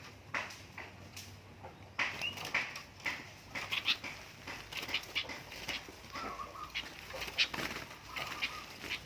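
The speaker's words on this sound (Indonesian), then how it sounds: "Burung kutilang dari sawah." Sooty-headed bulbul (kutilang) birds caught from a rice field call in bursts of short, bright chirps and sharp notes, some near and some farther off, over a low steady background hum.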